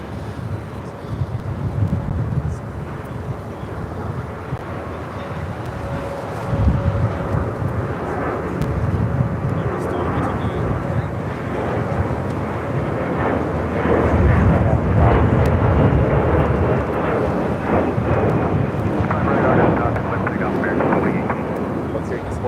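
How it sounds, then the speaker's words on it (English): A Delta Airlines Airbus A321neo roars at LAX, a broad, loud jet rumble that swells and holds steady, with some wind buffeting and radio chatter. "This is Delta Airlines Flight 957 coming in from Raleigh, Durham in an A321 Neo."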